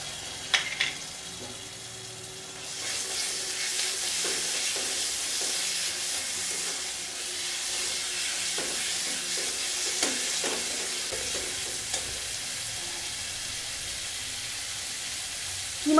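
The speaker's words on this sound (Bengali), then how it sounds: "এবারে দিয়ে দেবো কিছুটা মাটন কিমা।" Mutton keema drops into a hot pan and fries with a sudden rising hiss that settles into a steady sizzle, broken by occasional clinks and scrapes of a spatula.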